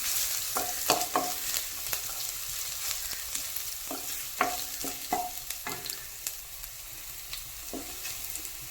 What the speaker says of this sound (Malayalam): വഴറ്റി കൊടുക്കണം